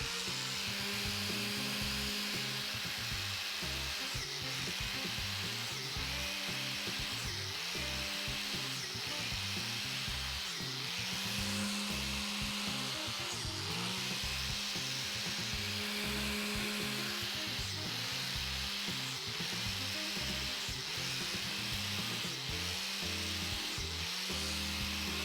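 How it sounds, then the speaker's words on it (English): A power drill whines steadily into a wooden log, its pitch rising and falling in repeated bursts as it bores holes for mushroom inoculation, loud and continuous with no talk. "Let's drill some holes in this log."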